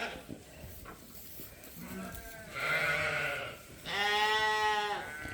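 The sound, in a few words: Dorset ewe lambs bleating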